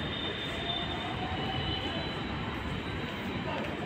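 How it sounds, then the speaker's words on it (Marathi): A metro train at a Nagpur station platform produces a steady, loud low rumble with a faint high whine running throughout, an even, continuous roar close by. "इथून तुम्हाला खापरीसाठीची मेट्रो."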